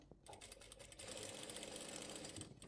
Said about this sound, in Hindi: हम एक बारी कपड़े पे भी चला के देख लेते हैं मशीन